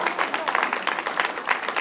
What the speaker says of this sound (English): you just had an applause